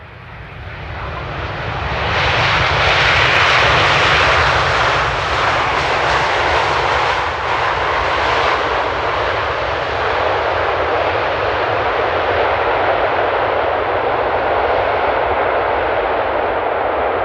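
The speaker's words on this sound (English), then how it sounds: "And Delta tends to reverse, so I think it's gonna be sounding quite nice." A Delta airliner touches down at Amsterdam Airport in the early morning and slams into reverse thrust, a loud, sustained jet roar that swells within seconds and holds strong before slowly easing.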